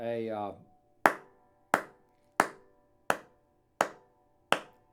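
Six evenly spaced, sharp hand claps keeping steady time with a metronome, each crisp and close with a quick decay in a quiet room, following a brief spoken phrase.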